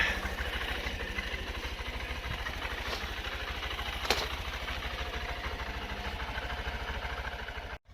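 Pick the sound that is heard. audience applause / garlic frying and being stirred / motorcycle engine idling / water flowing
motorcycle engine idling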